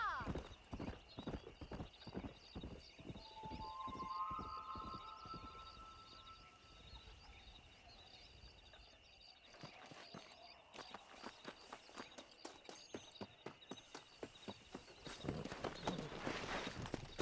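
A galloping horse ridden in Red Dead Redemption, with steady rhythmic hoofbeats throughout, a whinny partway in, and a voice speaking over it.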